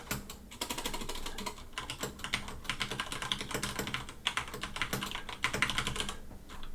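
A computer keyboard clatters with rapid, continuous typing as notes are entered, the keystrokes close and busy with brief pauses between bursts.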